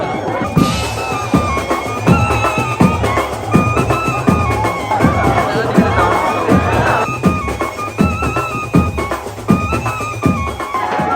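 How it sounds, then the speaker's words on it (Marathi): A dense festival crowd packs a hillside for the Ekvira Aai palkhi procession, its loud, continuous hubbub mixed with steady rhythmic drumbeats throughout. "आता गर्दी पुष्कळ आहे"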